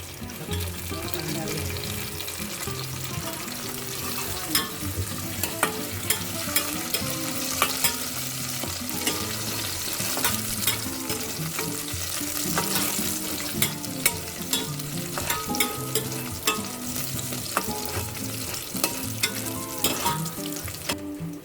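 Chunky and crushed garlic fries in a pan for Filipino-style ratatouille, with a steady loud sizzle and frequent scraping and clinking stir strokes throughout.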